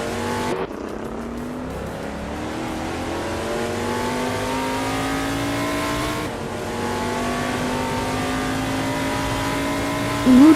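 Race cars, including a Mercury Cyclone, roaring around a track in a stock car racing video game, a loud continuous engine drone with rising revs and shifting pitch as cars jostle in a close pack.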